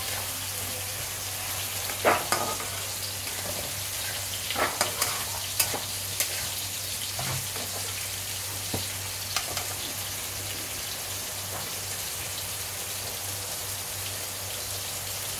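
Small shrimp and pumpkin greens sizzle steadily in a hot pan while being stir-fried, with a few soft scrapes and clinks of the spatula over the continuous crackle.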